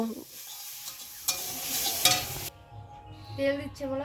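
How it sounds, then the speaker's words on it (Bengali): Oil sizzling and hissing in a pan while pumpkin flower fritters fry, with stirring clatter and a bright hiss that swells and then cuts to quieter frying with faint tonal sounds. "তেল দিচ্ছে দেখো সাদা তেল"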